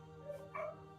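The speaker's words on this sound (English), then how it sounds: "Sorry, my dogs are going crazy." Dogs yip and whimper briefly in the background of a quiet indoor room, giving two faint high cries over a steady hum.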